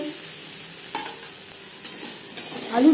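Potato pieces fry in oil seasoned with salt and turmeric in a pan, giving a soft, low sizzle with a few scraping stirs and clinks, quiet and close with no voices.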